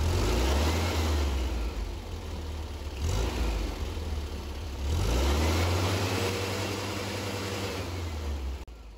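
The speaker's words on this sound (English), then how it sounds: "the engine revved up" Air-cooled engine of a VW Beetle revving during a timing-light check, the low mechanical drone swelling twice to higher revs and dropping back between rises, close and loud with no talking.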